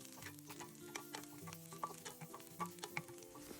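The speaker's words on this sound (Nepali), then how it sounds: "मैले त्यही प्यानमा बाँकी रहेको तेलमा मसिनो गरेर काटेको लसुनलाई राखेर भुट्दैछु" Finely chopped garlic fries in leftover oil in a pan, a soft, continuous sizzle broken by small crackles and scraping taps as it is stirred.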